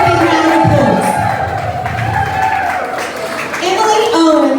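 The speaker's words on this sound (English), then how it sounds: "Give her a big round of applause." Loud crowd applause mixed with whoops and cheering at a studio grand opening in Melbourne, continuous and close, with shouting voices riding over the clapping throughout.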